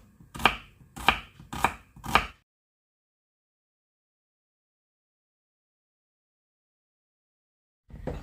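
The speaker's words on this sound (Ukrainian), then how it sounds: "І нарізаємо цибульку, але нарізаємо її навпіл отак." Four quick knife chops strike a cutting board in an even rhythm as an onion is cut, followed by a long silence and one more soft thud.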